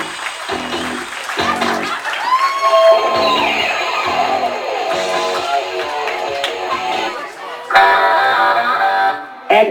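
Wedding reception guests applaud and cheer for a bridesmaid at Wachusett Village Inn in Massachusetts, a steady wash of clapping with whoops and music-like tones, swelling louder near the end.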